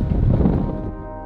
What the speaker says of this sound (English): Now the wind picks up.